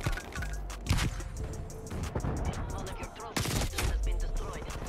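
Rapid gunfire from a machine gun rattles through a first-person shooter match as a player is pinned down near a doorway. The bursts are dense and loud, with several sharp cracks standing out from the continuous fire.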